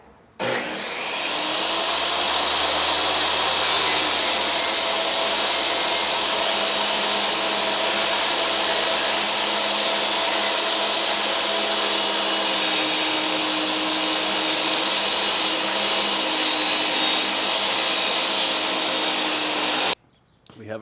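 A power saw rips scrap wood into thin strips, running loud and continuous for about twenty seconds with a steady high whine and rough grinding texture, stopping abruptly at the end.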